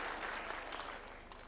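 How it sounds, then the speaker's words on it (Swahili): A rally crowd claps in a brief, dense burst of applause that stays steady and fairly loud, with no voice over it. "Tuwapigie makofi."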